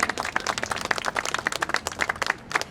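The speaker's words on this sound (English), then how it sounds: "Yes, you can applaud." Applause from a small audience at a Portuguese Immigrant Week event in San Leandro, distinct individual claps in a quick uneven rhythm, fairly close and not very loud.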